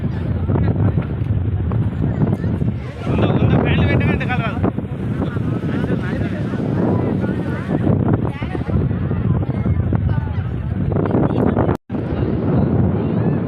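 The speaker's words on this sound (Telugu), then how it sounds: "గాలి చాలా స్పీడ్గా గాలి పెడుతుంది, మామూలుగా పెడతలేదు గాలి." Strong wind blows hard across an open farm field, a loud continuous rumble buffeting the microphone with gusty swells and no letup.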